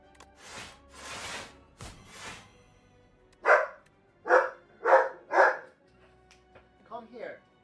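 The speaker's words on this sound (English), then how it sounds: "You gotta stop barking like that" A dog barks four times in a steady series, loud and close, preceded by softer sounds and followed by a few quieter yips, with someone talking around it.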